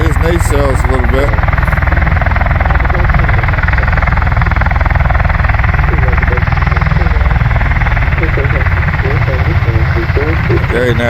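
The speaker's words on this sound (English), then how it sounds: "Okay, now he's spooling back down, the one on the left." USMC V-22 Osprey tiltrotor at an airport spools an engine down, a loud, steady rotor and turbine roar with a whining tone, while people talk over it nearby.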